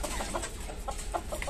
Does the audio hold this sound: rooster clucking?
yes